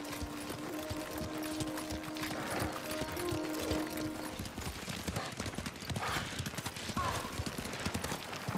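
Horses' hooves clopping steadily on the ground in the Ghost of Tsushima video game, a continuous dense rhythm under soft ambient background, with a faint whinny near the start.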